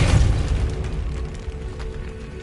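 A Depulso spell blast in Hogwarts Legacy, cast inside a decaying catacomb, lands as a loud, deep boom at the start and then fades into a rumbling tail.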